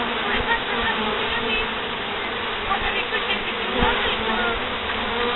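Honeybee swarm buzzing densely at a hive entrance, a steady, loud, close drone with individual bees passing near, faint talk underneath.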